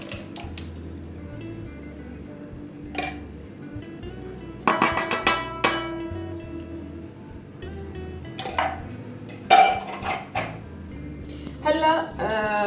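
Potatoes being tossed with seasoning in a metal baking tray, with intermittent clinks and scraping clatters in bursts against a quiet background, a voice speaking at times.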